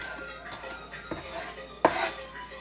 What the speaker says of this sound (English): now I'm chopping up the chives